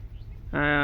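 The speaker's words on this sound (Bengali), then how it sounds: "আপনারা দেখতে পাচ্ছেন চীনা হাঁস ও তিতির পাখি এবং কিছু দেশি মুরগি রয়েছে" Among Chinese ducks and guinea fowl in a homestead bean field, a bird lets out a close, loud, harmonic call in the second half, following a quiet stretch of faint background noise.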